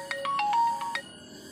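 A short melodic phone ringtone plays a quick run of bright electronic notes, clear and fairly close, with no talking over it.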